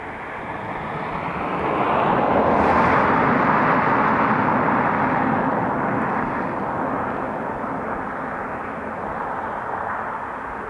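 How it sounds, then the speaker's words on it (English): An Airbus A321neo airliner departing Dublin Airport for Newark: a broad jet engine roar swells loud near the start, peaks, then slowly recedes into a steady distant rumble. "So our 321neo will be heading to EWR"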